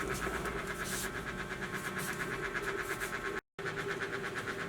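A QAP mug heat press runs steadily at close range for a sublimation mug print, giving a continuous droning hum with a faint rhythmic throb, one brief dropout near the end, no talking.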